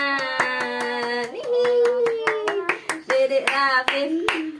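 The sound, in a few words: child clapping hands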